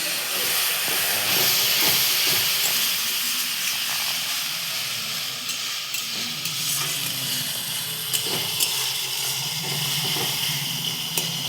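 Water splashed into frying fish curry masala in a pan, setting off a loud, steady hissing sizzle with steam that runs throughout, punctuated by faint stirring clicks, close and without talk.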